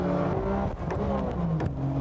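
Engines of 500-plus-horsepower sports cars, among them a McLaren F1, roar down a circuit's back straight during a 1995 race battle: a loud, continuous, close engine drone with slowly shifting pitch.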